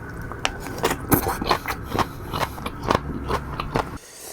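Crunchy, close-up chewing of salty Thai papaya salad with pickled fish sauce and crab, in big bites, a rapid series of crisp crackling crunches that stops abruptly at the end.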